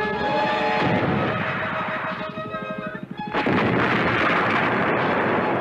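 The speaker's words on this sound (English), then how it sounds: "With artillery fire." Artillery fire in a 1976 King Kong monster movie: loud, dense, sustained booming and crashing blasts that briefly thin out near the middle, then surge back at full strength.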